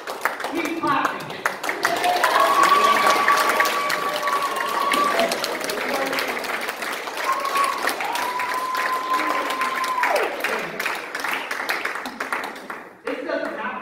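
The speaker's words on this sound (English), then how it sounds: "Keep clapping." Church congregation clapping steadily during a Sunday service, a continuous wash of applause with whistles and cheers rising above it before it thins out at the end.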